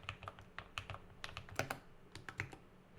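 Custom-built keyboard being typed on, producing quiet, crisp key clicks in irregular bursts with brief pauses, close and fairly soft.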